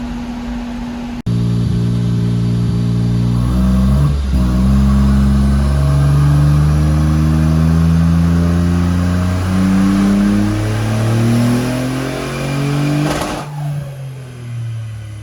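A turbocharged, nitrous-fed Smart car engine runs loud and close, roaring through repeated rising revs in a series of upshift-like sweeps before easing off near the end, with no voices over it.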